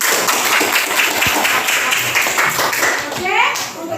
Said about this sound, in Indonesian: Sebelumnya kita tepuk tangan buat diri kita sendiri.